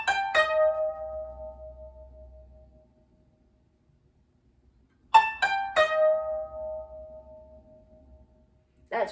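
Koto strings thirteen, twelve and eleven from Hana Ikada: quick plucked pairs each followed by a longer ringing note that fades into silence, then the figure repeats, close and solo.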